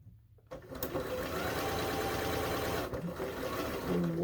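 A domestic sewing machine chain-piecing quilt fabric blocks runs in a steady, fast whirring stitch close by, starting abruptly after a brief silence and continuing without talk.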